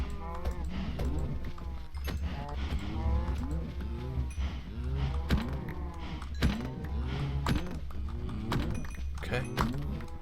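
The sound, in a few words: cows mooing in Minecraft, killed for leather, from a video game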